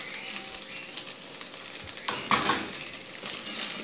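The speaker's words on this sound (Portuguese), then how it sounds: "Agora é só a gente colocar o nosso bacon." Bacon and garlic fry in a pan with a soft, fairly quiet sizzle and a few utensil scrapes and stirring sounds, one sharper clatter midway, no talk.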